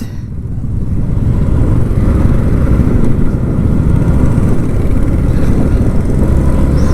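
A group of motorcycles rides past on a road between Jammu and Srinagar, a loud, steady, close engine roar that holds throughout without letting up, with no talking over it.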